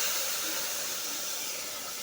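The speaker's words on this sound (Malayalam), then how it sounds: "ആവി എൻ്റെ കയ്യിലോട്ട് അടിച്ചു ഗൈസ്." Steam hisses from a pot of sago payasam, a steady, close, airy hiss that holds evenly for about two seconds with no talk.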